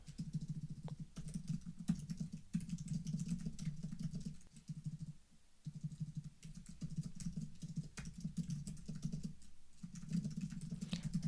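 Continuous close clatter of fingers typing an email on a computer keyboard, steady bursts of keystrokes with a brief pause midway, over a low hum and no talk.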